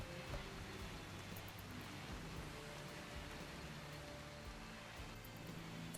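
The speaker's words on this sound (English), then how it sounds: "And here it comes, friends, the rains." Rain in the video game Rimworld, falling in a high-rainfall biome as a steady soft hiss of drops, continuous and fairly faint, with no talking over it.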